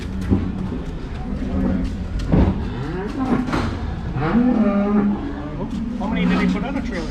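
Dairy cows mooing in a barn during the final milking, several long, loud lowing calls overlapping one another close by, with people talking underneath.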